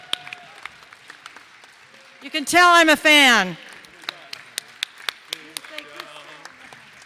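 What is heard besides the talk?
audience applause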